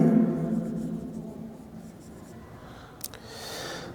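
Chalk or marker writing on a board during a lesson, a steady scratchy stroking that fades over a few seconds, ending with a brief tap.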